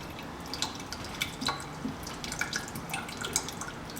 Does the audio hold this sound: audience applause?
no